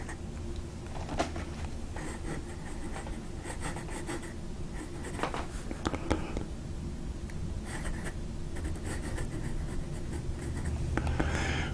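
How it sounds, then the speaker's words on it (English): A fine nib of an ivory Sheaffer Balance fountain pen, used posted, writes on paper, giving soft, close scratchy strokes in irregular bursts with short pauses, quiet and alone without talk. "we're going to put nib to paper for the first time"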